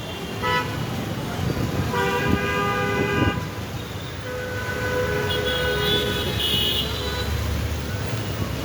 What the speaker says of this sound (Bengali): বৃষ্টি হইয়া পুরো বাজে একটা অবস্থা, রাস্তা পুরো জ্যাম হয়ে রয়েছে।